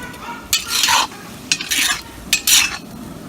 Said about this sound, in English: We're gonna give it a good stir.